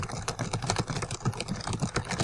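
Quick, irregular keyboard clicks from someone typing on a computer in InDesign, with a fairly steady stream of taps over a low background hum.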